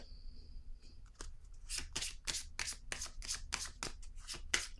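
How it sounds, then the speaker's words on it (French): Tarot cards riffled and shuffled by hand in a quiet room, a string of crisp, papery flutters in rapid bursts, close and clear, with a few softer slides between them. "Je vais piger une autre carte."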